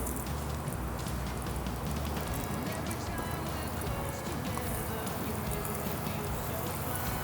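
Water sprayed over a car's coated paint in a light, rain-like shower during a detailing test, a steady close hiss and patter running without a break.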